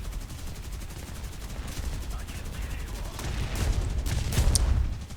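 Machine guns of a Polikarpov I-15 biplane in a flight combat game, rapid rattling bursts under a droning engine roar, with the firing growing louder and denser toward the end.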